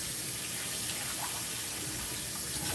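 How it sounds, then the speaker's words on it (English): Cold tap water runs steadily into a sink while raw chicken is rinsed under it for thawing, a continuous close splashing hiss that holds even for about three seconds with no voices. "thoroughly rinse the chicken, put it in cold water"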